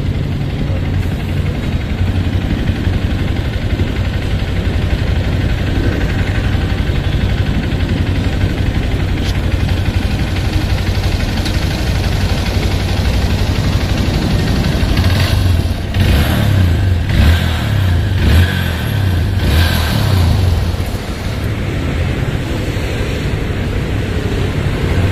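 A motorcycle with a recently bought, faulty battery runs with a loud, steady engine rumble close by, swelling into a few uneven revving pulses midway before settling back to an even idle.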